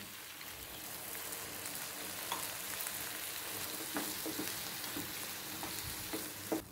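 Goan potato bhaji frying in a pan as water is poured in, a steady dense sizzle and crackle with a few brief splashes and stirring clinks, close and continuous, no voices.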